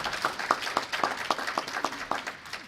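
A modest audience at a Rotary event gives a short, sparse round of clapping, with individual claps audible in a loose, fairly quiet rhythm.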